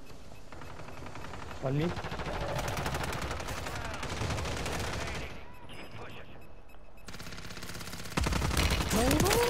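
Gunfire in a ranked match of the video game Warzone, with sustained rapid bursts running under close, excited voice chat and a louder stretch of shots near the end.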